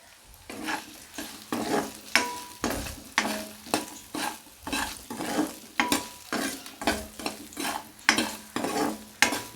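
Meal maker soya chunks fry lightly in a pan with salt, sizzling in rhythmic bursts as a spatula stirs and scrapes about twice per second, close and clear, with no voices.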